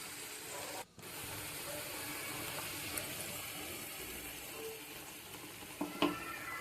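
Tomato puree, added to a pan while cooking matar paneer, hisses in a steady sizzle. A couple of soft clatters come near the end.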